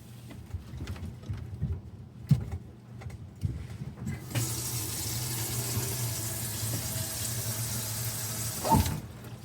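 Water rushes steadily through pipes as a reverse-osmosis filtration system refills after the main supply is turned on, a broadband hiss starting partway in after quieter clicks and knocks, continuing evenly to the end.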